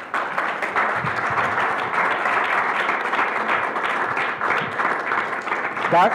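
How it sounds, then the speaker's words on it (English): Steady applause from a crowd, sustained and fairly loud throughout, with a faint voice briefly audible near the end. "please join me in giving this panel a round of applause"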